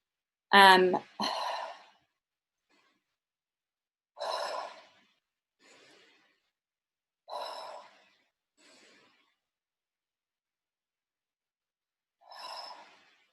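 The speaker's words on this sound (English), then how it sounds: "that's me breathing right now" A person breathes in slow, separate exhales and sighs, with a strong audible breath at the start followed by softer, widely spaced breaths amid silence.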